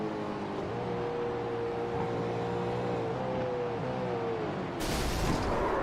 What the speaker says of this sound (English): Yeah, downshift. Engine gone.